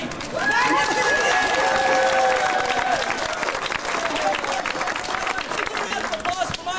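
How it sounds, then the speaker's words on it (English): Live-show audience at Disney World breaks into loud, sustained applause and cheering that swells then tapers, while a presenter's amplified voice speaks over the clapping. "applause for my assistant today, Charles Moore!"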